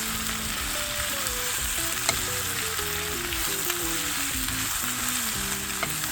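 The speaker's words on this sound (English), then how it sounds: "Let's add our onions to the oil. Saute till it's nice and glassy." Onions sauté in hot oil until glassy, giving a loud, continuous sizzle and crackle with occasional stirring taps throughout.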